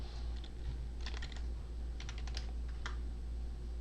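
Someone types a password on a computer keyboard during a MySQL installation, with bursts of quick, close keystrokes separated by short pauses over a steady low background hum.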